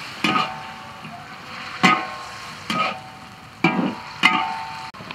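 Ginger hits hot oil in a pot for a pickled-chili lamb stew, hissing in about five sharp sizzling bursts with stirring scrapes between them, close and moderately loud.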